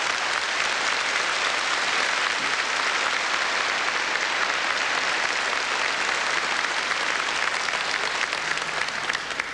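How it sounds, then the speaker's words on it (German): Sustained, dense clapping from a studio audience at a 1980s Austrian New Year's Eve TV variety show, loud and steady throughout with no voices over it. "wir müssen das Klatschen ein bisschen üben noch"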